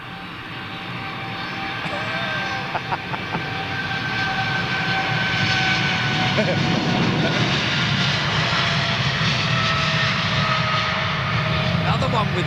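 A fixed-wing airliner passes at Heathrow Airport, its engine roar building into a steady, loud broadband rumble with a whining tone, while someone talks over it.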